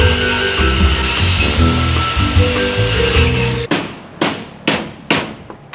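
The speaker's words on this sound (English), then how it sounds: "No, it's a hammer, but it's a hammer." After a few seconds of droning, tonal noise, a hammer strikes wood four times in a steady rhythm during a limousine-to-camper conversion, each blow sharp, loud and close.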